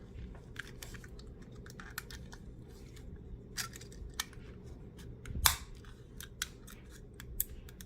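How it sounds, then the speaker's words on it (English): A plastic part snaps into place during a build, one sharp click standing out around the middle among scattered small clicks and handling noises over a steady low hum, with no talking. "sometimes you gotta snap it in place"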